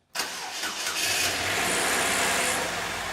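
A car engine cranks and catches within a fraction of a second, then settles into a steady, loud idle close by, with no voices, during a fuel injector check.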